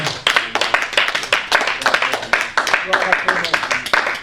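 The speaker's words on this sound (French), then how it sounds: "Acclame pour le Seigneur." A church congregation claps rhythmically together in quick, loud, steady beats, with voices mixed in under the clapping.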